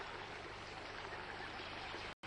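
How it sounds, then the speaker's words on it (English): Cool, clear stream flowing through the Mau forest below an escarpment, a steady close wash of running water that fills the clip without a break until a brief dropout near the end. "In the forest, the stream runs cool and clear."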